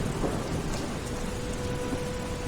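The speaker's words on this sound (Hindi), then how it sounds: "बाहर बारिश पहले से भी तेज हो चुकी थी।" Heavy rain pours outside a house, with thunder rumbling low underneath a dense, constant wash of rainfall and no one speaking.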